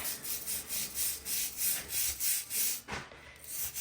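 Bleach-soaked crevice cleaning brush scrubbing in quick, even back-and-forth strokes, close and fairly quiet, a regular rasping rhythm with a brief pause near the end.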